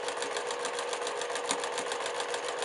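A sewing machine stitches a quilt block seam a quarter inch from the line, a steady, close, rapid whir with an even stitching rhythm and no break, heard alone.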